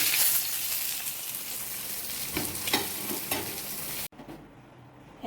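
Carp fish sizzle loudly in hot oil in a pan, a dense crackling hiss with a few stirring knocks, cut abruptly to a quieter sizzle for the last second.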